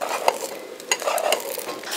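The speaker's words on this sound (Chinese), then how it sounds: "鸡蛋煎定馅，炸成块儿" Beaten eggs frying in a hot wok for a home-cooked cabbage, egg and tofu dish, a close crackling sizzle with a few sharp clinks and scrapes of a spatula stirring.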